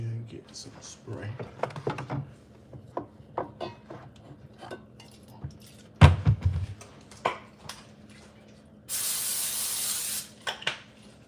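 Cooking spray hisses in one sustained burst of about two seconds near the end, following kitchen clatter and a loud thunk while a person talks intermittently.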